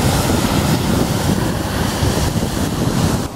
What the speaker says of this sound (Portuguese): O mar já está quase a chegar aqui às minhas pezinhas.